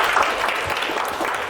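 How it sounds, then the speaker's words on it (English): An audience at a talk on mind control breaks into steady, dense clapping, a brief burst of applause heard close and full without voices. "Can we give Roja a big round of applause"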